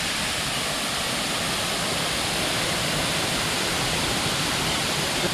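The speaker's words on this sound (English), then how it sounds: "क्या मस्त waterfall है" Waterfall inside Jurong Bird Park in Singapore, a steady, dense rush of falling water filling the whole scene at constant loudness, with no voices over it.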